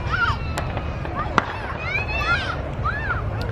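Fireworks go off at a nearby house by Indian Lake, heard as sharp pops and whistling, rising crackles over steady outdoor ambience, with people talking close by.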